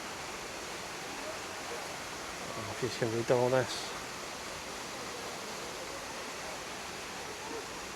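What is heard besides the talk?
man-made waterfall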